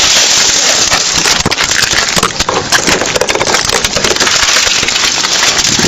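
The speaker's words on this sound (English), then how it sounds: "break the window and take her out" Police officers smash a car window during a DUI arrest, giving a dense, continuous crunching and splintering of breaking glass that stays loud throughout the whole stretch.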